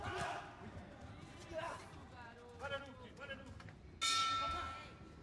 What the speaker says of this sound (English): Bell goes at the end of the first.